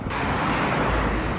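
Strong wind buffets the microphone on a seaside walk into town in Rhodes, Greece, a loud, continuous roar with a faint hint of nearby traffic or surf.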